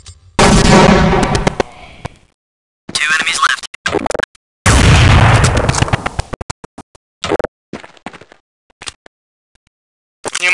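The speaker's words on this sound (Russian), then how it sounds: "Внимание, граната!" Grenade blasts and gunfire in Counter-Strike 1.6 come as several loud, booming, close bursts. Abrupt silences separate them, and sharper shot-like cracks follow.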